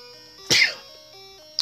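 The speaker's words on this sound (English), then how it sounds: "I'm sorry for sneezing." A single sharp, close sneeze bursts out over soft background music from a randomized Pokémon Red game, followed by a brief click.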